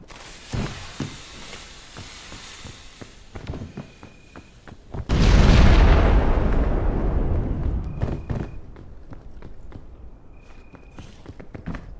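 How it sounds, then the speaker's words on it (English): Chain launcher firing in the video game Peak: a sudden loud whooshing blast erupts midway and decays over several seconds, set among scattered footstep-like thumps and a few faint electronic tones. "I've got a chain launcher."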